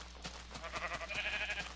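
Sheep in Minecraft bleating, a few short wavering bleats in quick succession over a steady background hum, moderately loud with no talk.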